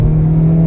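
Honda Civic Type R FL5 engine holds a steady, loud mid-range drone during a brief moment of driving, heard close from inside the car.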